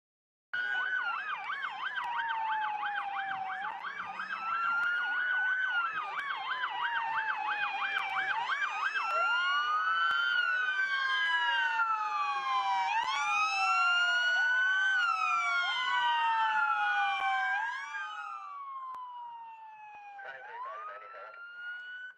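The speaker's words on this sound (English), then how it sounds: "A frantic 911 call and police sirens signal the beginning of a very bad day." Several police sirens wail and yelp together, overlapping loudly for a long stretch before fading out near the end.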